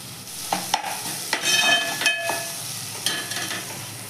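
Browned onion frying with ginger garlic paste, bursts of sizzling as the pan is stirred, with scraping strokes recurring at irregular intervals close by.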